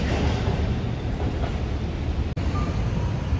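A single-car Hiroshima Electric Railway Type 700 streetcar pulls away from the Hiroshima Station tram terminal amid city traffic, giving a steady, fairly loud low rumble of wheels and motor with a brief dropout partway through and no talking.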